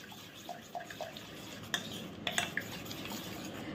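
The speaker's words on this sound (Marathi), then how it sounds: "चांगलं फेटून घ्यायचं आहे एकसारखं।" Mirchi vada batter is beaten evenly in a bowl after a spoonful of hot oil is mixed in. Soft stirring and scraping carry a few sharp utensil clinks over low, steady background noise.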